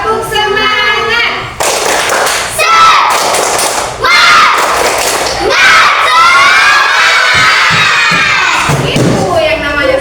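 Classroom of children performing the tepuk semangat clapping chant, loud shouted rhythmic calls broken by bursts of clapping and cheering, energetic and close with brief pauses between phrases.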